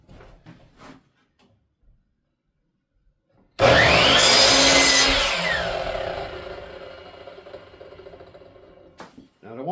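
A miter saw bites into pallet wood in one loud, close cut lasting several seconds, the blade whine and rasp tapering off as it spins down, with faint clicks before and after.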